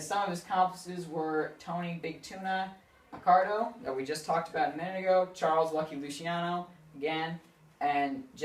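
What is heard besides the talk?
No everyday noises stand out.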